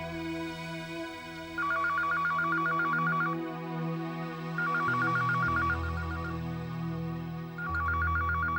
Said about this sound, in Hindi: प्रशांत, अगर तुम यहाँ नहीं आए तो मैं बार बार सारी रात तुम्हें फोन करती रहूंगी।